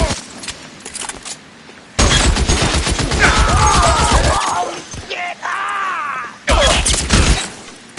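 Loud bursts of gunfire in L.A. Noire: sustained volleys come in two heavy stretches with shattering impacts between them. The shots are close and dense, with brief quieter gaps and some vocal sounds mixed in.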